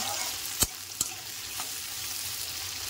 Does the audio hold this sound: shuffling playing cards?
no